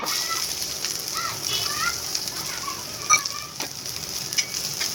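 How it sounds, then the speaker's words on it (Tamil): Finely chopped onions fry in oil in a pan, a steady loud sizzle with occasional stirring clinks, close up and without talk. "இப்போ நம்ம வெங்காயத்தை இந்த மாதிரி டார்க் ப்ரௌன் கலரில் வறுத்து வச்சுக்கணும்"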